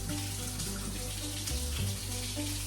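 Steady broadband rush of water running from a tap, waiting to warm up; continuous and fairly close, with low hum underneath and no talking.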